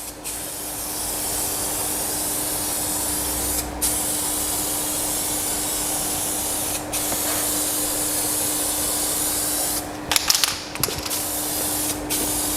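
Spray gun applying PlastiDip rubber coating, a steady loud hissing blast that runs almost without a break, with a few short cutoffs and some brief clatter near the end.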